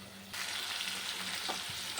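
Pointed gourd and potato curry sizzles steadily in a hot pan, a bright continuous frying hiss with occasional stirring scrapes.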